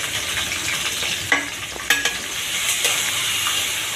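Chopped onion frying in soybean oil in a pan, a steady close hiss of sizzling with a few sharp clicks and scrapes of stirring; no talking.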